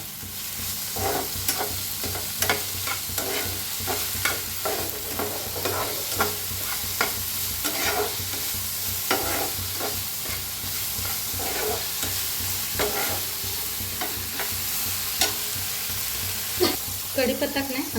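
Crushed green chilli and garlic frying in a hot pan, a steady oily sizzle broken by repeated scraping stirring strokes, fairly close and continuous with no talking.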